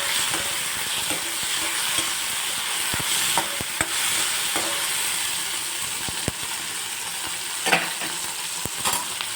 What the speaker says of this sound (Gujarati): હવે આપણે બધું જ મિક્સ કરી દઈશું